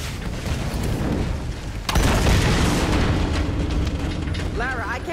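Explosion in the video game Tomb Raider: a deep boom hits partway through amid dense, roaring game noise of fire and action, sustaining a loud rumble afterward.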